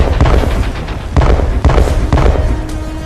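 An Iranian drone strike test hits a mountain target, with several heavy booming explosions in quick succession, loud and rumbling.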